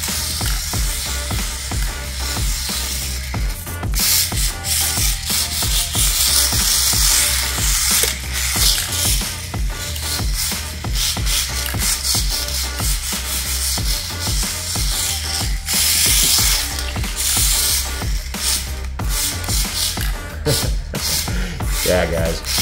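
A cheap RC drift car drives around continuously, its small motor and gears whirring and buzzing loudly with rapid throttle changes and tyre scuffs throughout, no talking.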